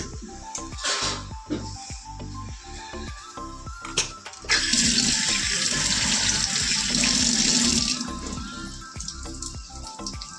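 Tap water gushes into a kitchen sink to rinse raw meat, starting with scattered clatter and handling noises, then a loud, steady rushing flow that runs for several seconds before easing off.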